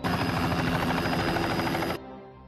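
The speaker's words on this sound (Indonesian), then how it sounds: "helikopter Basarnas mendarat di sana untuk menjemput Jack" Basarnas rescue helicopter landing, its loud close rotor thudding in a steady rapid chop with engine whine, cutting off abruptly to a quiet hum near the end, with no talk.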